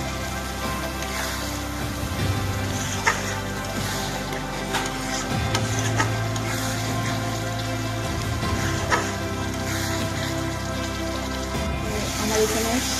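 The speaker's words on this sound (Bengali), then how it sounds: "এখন মশলাটা আমি কষে নেব" Spice masala being stir-fried in a pan for raw banana kopta curry: a steady sizzle with scattered crackles and scraping taps, under a continuous low hum, with a voice talking at times.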